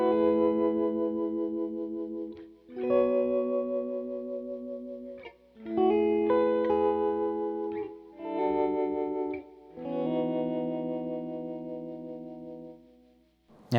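Electric guitar played through a CASIO Dimension Shifter strap-mounted effects controller with a volume pedal: sustained chords swell in and fade in several phrases, thick with chorus, distortion and echo. No one talks.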